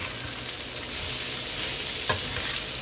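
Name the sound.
stirring pansit bihon noodles with celery in a pan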